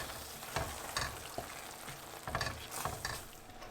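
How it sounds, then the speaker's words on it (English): Tomato puree being stirred into a sizzling methi chicken curry sauce, a steady close frying hiss broken by soft scrapes and stirring swishes, with no talk. "Give that a good stir."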